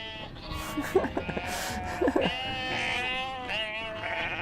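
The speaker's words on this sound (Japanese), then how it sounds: "おーい羊、一回羊を取る。" Sheep bleating in the video game UNMETAL, several wavering cries in a row over a busy game soundtrack, fairly loud and close.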